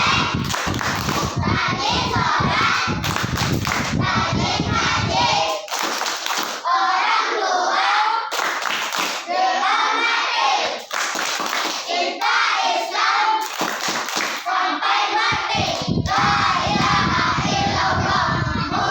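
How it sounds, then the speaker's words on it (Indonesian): Children performing the rhythmic 'tepuk anak soleh' clapping chant in an Islamic class, patterned bursts of clapping alternating with pauses, with young voices chanting and calling out between the claps. "Oh, buat tepuk anak soleh dulu."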